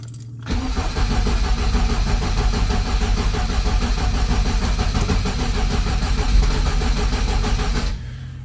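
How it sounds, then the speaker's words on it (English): A Ford Escort Mk1 engine cranks and turns over steadily for about seven seconds, a loud, close, continuous churning with a regular rhythm as it struggles through poor starting, with no voices. "Still think it needs a couple more, but it's turning over better"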